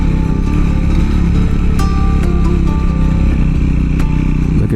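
A motorcycle rides in first gear through canyon country, its engine droning loud and close with steady exhaust throb and occasional clatter and scrape, no pauses.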